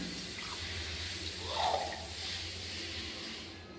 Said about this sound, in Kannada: 1 ಕಪ್ ಮೊಸರಿಗೆ 1 ಕಪ್ಪು ನೀರು ಹಾಕ್ತಾಯಿದ್ದೀನಿ.